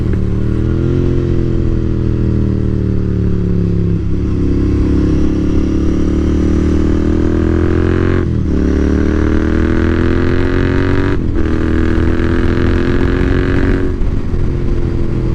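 Royal Enfield Interceptor 650 twin engine at full throttle, loud and close on a country road, its steady drone rising through the gears with brief dips at shifts around eight and eleven seconds.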